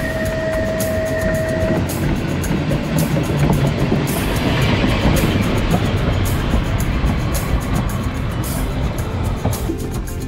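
A historic electric tram on the Isle of Man, in a car built in 1893, rumbles along continuously, with a steady mechanical roar and rattling, broad noise that swells slightly midway; a brief whine fades early on.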